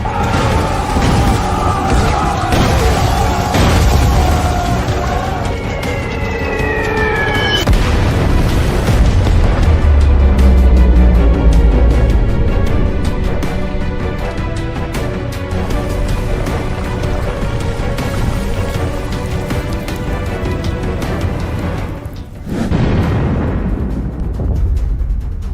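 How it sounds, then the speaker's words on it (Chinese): Dramatized bomber attack with deep booming explosions rolling through a dense, loud soundscape, including falling whistle-like tones and sustained rumbling, ending in a sudden drop. "这不是我们的轰炸机吗？ 为什么会冲着我们投弹？"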